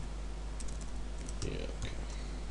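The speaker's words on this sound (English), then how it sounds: "if I could type port checker" Bursts of keyboard typing while entering a page title for a PHP port checker project: close, uneven clicks over a steady hum, with a voice faintly present.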